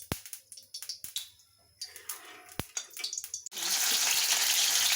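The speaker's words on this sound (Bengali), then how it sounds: "তো এরপরে যেটা করব সেটা হচ্ছে পনিরটাকে একটুখানি ভেজে নেব।" Paneer frying in mustard and vegetable oil in a kadai, opening with a few sparse taps and clicks before a loud, steady sizzle bursts in and holds up close.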